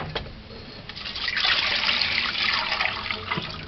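Water pours steadily into a pot for oats porridge for a few seconds in a continuous splashing stream, fairly close and moderately loud, with no talking.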